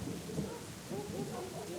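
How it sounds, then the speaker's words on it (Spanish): Rain and rolling thunder from a storm in the video game Syberia: The World Before, faint and low, rumbling in slow swells beneath steady rainfall with a voice briefly over it. "¿En plena tormenta?"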